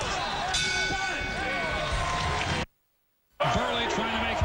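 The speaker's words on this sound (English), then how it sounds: "Here comes the bell to end round 6." A boxing ring bell clangs to end round six of the 2007 Adamek vs Pineda fight, ringing loudly over a dense, roaring arena crowd. The sound cuts out briefly before resuming.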